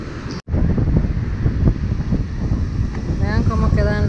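Loud, steady wash of sea waves on a lonely beach with black sand, churning continuously with wind buffeting the microphone, a brief dropout near the start and faint speech in the background.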